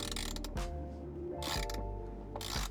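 A ratchet on an extender turns 10mm bolts while fitting a swivel screen mount in a Tesla, giving repeated clicking bursts of mechanism noise with short pauses between the turns.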